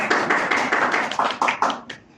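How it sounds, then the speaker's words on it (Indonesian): Classmates clap for a fellow student during a microteaching lesson on LAN cabling, a short burst of brisk, close hand claps that fade out after about two seconds. "Bisa tepuk tangan dahulu. Kita kasih aplaus untuk temannya."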